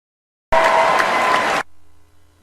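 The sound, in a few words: audience applause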